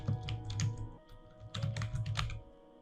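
Fingers type a category name on a computer keyboard, two quick bursts of close clicking keystrokes separated by a short pause.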